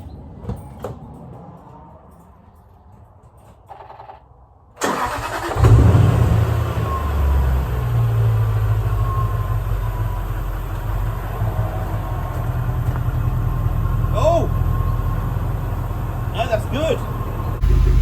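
A Jaguar XJR X350 engine turns over and catches abruptly, then settles into a steady, loud idle with a constant low rumble; a couple of faint chirps appear later.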